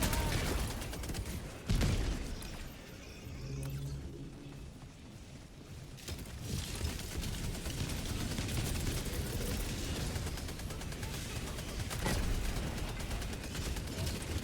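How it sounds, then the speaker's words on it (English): Artillery barrage in Helldivers 2 during a bot fight in a mega city: continuous heavy rumbling and booming with overlapping blasts and gunfire, dense and loud throughout. "I threw that barrage actually a little bit further out than I would have liked"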